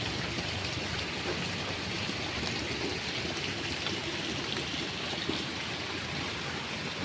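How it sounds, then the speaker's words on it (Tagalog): Heavy rain pours outdoors in a steady, dense hiss of water falling and splashing on surfaces, constant and fairly close, with a trickling, streaming quality and no voices. "Tumatatak na naman ang ulan na naman."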